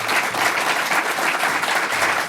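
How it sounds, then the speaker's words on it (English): Steady applause from a live audience at a podcast recording in Chicago, dense clapping holding at an even level throughout with no voices standing out. "a round of applause"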